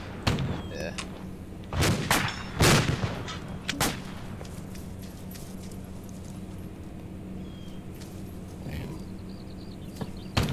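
Gunfire in the Arma 2 Unsung mod during a Vietnam-era hill assault, a few loud sharp shots early on, then a steady low hum with faint scattered reports further off.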